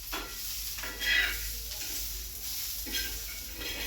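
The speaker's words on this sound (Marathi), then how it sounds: "छान मस्त फ्राय होतात." A pan of vegetables with peanuts, onion, chilli and ginger frying, giving a soft, continuous sizzle with a few scraping stirs and a louder burst near the start.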